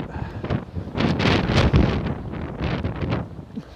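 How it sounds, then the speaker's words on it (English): Strong wind buffets the microphone on an outdoor walking trail, a loud, continuous roar with gusty surges and rumbling bursts throughout. "I just had this white noise of the wind"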